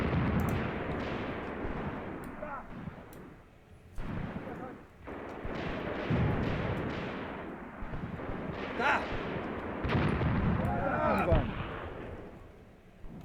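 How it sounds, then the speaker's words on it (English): Mortar fire and explosions from the Graviteam Tactics war game, with repeated heavy booms and rumbling blasts rolling at irregular intervals over a constant battlefield din, some sharp and near, others distant. "maybe our mortars picked up firing over here once our men made contact"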